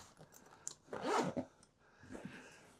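A zipper on a side pocket of a ski boot bag is pulled open in one quick, rasping run, close and fairly quiet, followed by a softer shorter zip.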